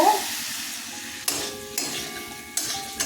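Tomato goes into a pan of spice masala already frying for a prawn and vegetable curry, giving a steady soft sizzle broken by a few sharp clinks and scrapes of a spoon against the pan.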